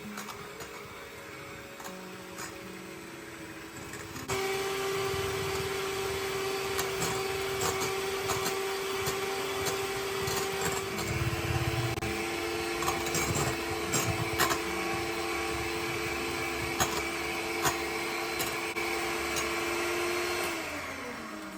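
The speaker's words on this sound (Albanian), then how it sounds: "Do t'i rrahej mirë me mikser vezët bashkë me sheqerin derisa sheqeri të shkryhet plotësisht" An electric hand mixer whirs steadily, beating eggs and sugar for a syrup-soaked revani cake; after a quieter start the motor hum switches on and runs continuously, close, with faint bowl knocks.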